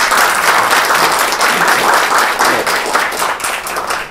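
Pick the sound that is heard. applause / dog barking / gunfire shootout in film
applause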